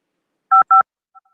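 Two quick telephone keypad tones sound close together, loud and crisp, followed by a faint short blip.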